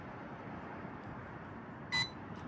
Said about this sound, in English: turn it clockwise until you hear a beep